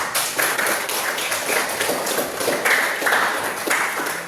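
Classroom applause for a student group, a steady patter of many hands clapping close by, dense and continuous without speech.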